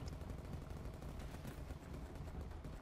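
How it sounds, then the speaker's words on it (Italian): A legendary pistol in the video game Atlas fires in a rapid burst of shots, quiet and distant, with dense back-to-back reports and no talk. "Vedete che ha sparato molto veloce per un attimo e poi è tornato a velocità normale."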